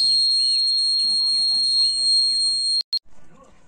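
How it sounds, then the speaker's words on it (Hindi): An elephant-deterrent fence alarm sounds a steady, high, piercing electronic siren tone outdoors, continuous and loud before cutting out abruptly with a brief stutter, over faint background noise and voices. "एक सायरन का आवाज़ भी हमें सुनाई दे रहा है"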